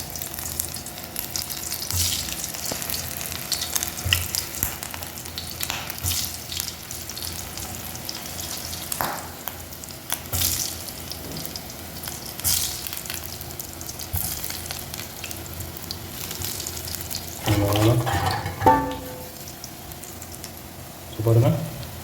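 Wheat-flour chicken snacks fry in hot oil, a steady sizzle running throughout with clatters of stirring and a louder bubbling burst near the end.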